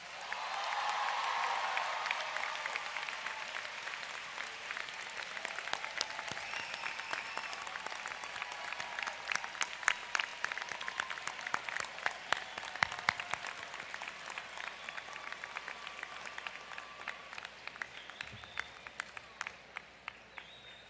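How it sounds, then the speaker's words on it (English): A large commencement audience at the University of California, Irvine gives a long, dense round of applause for the graduates' parents. The steady clapping fills the hall for about twenty seconds, with sharper individual claps popping out as it thins toward the end. "let me ask all the students to show your appreciation by giving your parents a big round of applause"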